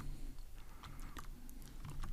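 A short burst of close keyboard typing, a few scattered key clicks over a low hum.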